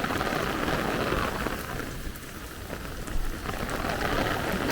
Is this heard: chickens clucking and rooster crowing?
no